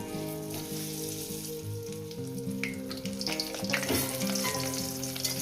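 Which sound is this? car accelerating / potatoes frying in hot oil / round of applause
potatoes frying in hot oil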